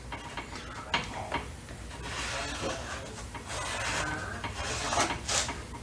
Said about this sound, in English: I'm just going to go ahead and scribe this line down